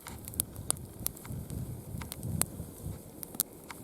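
A campfire with a colored flame effect crackles outdoors, sharp pops and snaps scattered irregularly over a soft, steady burning hiss.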